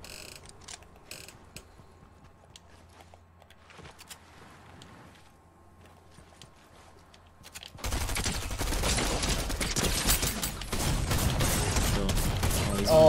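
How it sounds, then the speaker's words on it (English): Fortnite video game gunfire erupts as a dense, continuous burst of rapid shots in the second half, loud and close, following a quieter stretch of faint game clicks and mechanical noises. "Oh yeah, I see him. Oh, he's shooting me."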